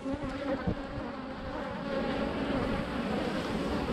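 A mass of honey bees drones at the hive in a continuous close buzz, rising slightly in intensity partway through, with no voices.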